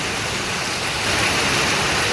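Heavy monsoon rain pours over a flooded village road in Odisha, a dense unbroken roar of falling water that grows slightly louder partway through.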